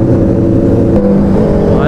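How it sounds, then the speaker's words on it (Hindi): A Suzuki Hayabusa inline-four sport bike accelerates hard during an urban drag race, a loud, smooth, close engine howl that climbs in pitch toward the end over steady wind rush. "अब गाड़ी की साउंड सुनो इनलाइन 4 की."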